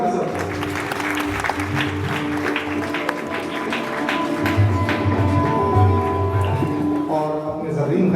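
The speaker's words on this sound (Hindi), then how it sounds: "तालियां तो बजाना सब।" An audience applauds at an award ceremony honouring teachers, journalists and writers, a continuous moderate patter of clapping with background music or tones running underneath.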